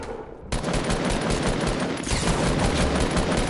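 Sustained automatic gunfire in the game Fortnite, a loud, close, unbroken rattle that kicks in abruptly after a brief quieter moment and runs to the end.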